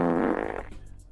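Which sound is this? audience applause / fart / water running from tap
fart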